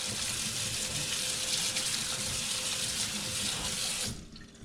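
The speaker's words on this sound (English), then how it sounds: "I've got 4 cans of canned beans. And I'm going to simply rinse them off" Canned beans being rinsed under a running kitchen tap, a steady close gush of water splashing into a sink that cuts off abruptly near the end.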